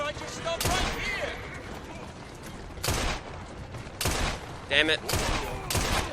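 Gunshots in the Assassin's Creed Syndicate video game ring out as several loud, sharp bursts at irregular intervals over busy background ambience, with a voice briefly speaking between them.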